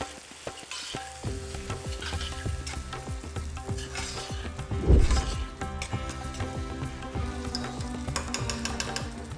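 Onions with ginger and garlic sizzling and frying in a pressure cooker, a constant dense hiss with stirring scrapes and a brief louder clatter partway through.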